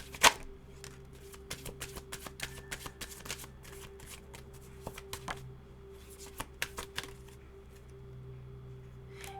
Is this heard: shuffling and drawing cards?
yes